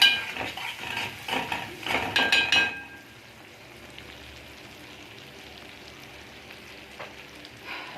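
A pan of mashed potato and mozzarella with chili pepper is stirred, with clinks and scrapes of a utensil over the frying sizzle for the first few seconds, then only a soft, steady sizzle continues.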